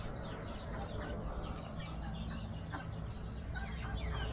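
Chickens clucking among ducks and geese in a farmyard, a busy chorus of overlapping clucks and short calls at moderate distance over a constant low rumble of background noise.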